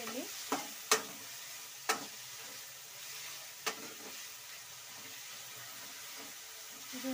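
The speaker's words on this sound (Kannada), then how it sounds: "ಈಗ ಗಸಗಸೆ, ಕೊಬ್ಬರಿ ಎಲ್ಲ ಚೆನ್ನಾಗಿ ಫ್ರೈ ಮಾಡ್ಕೊಬೇಕು. ಇದನ್ನು ಎಣ್ಣೆಯಲ್ಲಿ" Poppy seeds and grated dry coconut fry gently in oil for a village-style drumstick masala, a faint soft sizzle punctuated by a few sharp clinks and scrapes of a spoon stirring the pan, with no talking.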